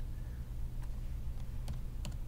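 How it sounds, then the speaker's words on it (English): Keys on a computer keyboard click in a few quiet, spaced taps as a short word is typed into a statistics spreadsheet, set over a low steady hum. "So I'll start typing in max."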